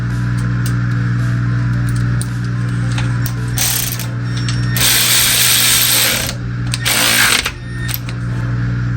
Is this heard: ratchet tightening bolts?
yes